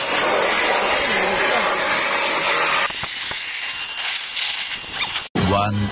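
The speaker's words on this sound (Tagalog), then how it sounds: "Binabacuum na kasi tapos na labahan." A vacuum cleaner runs after the laundry is done, giving a loud, steady whooshing roar that cuts off about halfway through. Quieter clatter and a brief voice follow.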